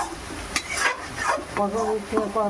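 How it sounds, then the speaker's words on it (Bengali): A paste of coriander, cumin and chilli powder mixed with water sizzles in oil in a kadai while being stirred, scraping strokes over steady frying, someone talking over it. "কড়াইয়ের মধ্যে দিয়ে এইভাবে নাড়তে হবে"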